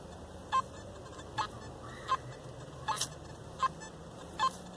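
A Nokta Makro metal detector at full sensitivity gives six short, evenly spaced beep tones over a steady faint hiss, with no talk.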